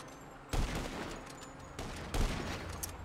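Rapid bursts of gunfire from a GTA Online video game race, with two sharp loud volleys near the half-second and two-second marks over continuous crackling shots and game noise.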